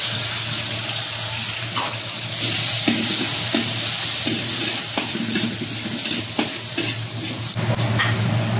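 Garlic and onion sauté in a pan with a loud, steady sizzle throughout, broken by a few scraping stirs, with no talking.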